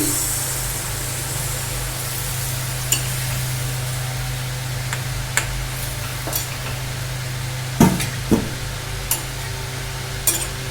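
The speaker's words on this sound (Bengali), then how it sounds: "আমি কিন্তু প্রয়োজন মতো জল এতে দিয়ে দিচ্ছি" Water poured into an oil-separated spice masala for a vegetarian dhoka dalna gravy, giving a steady low sizzle with scattered clinks and scrapes of stirring, no voices.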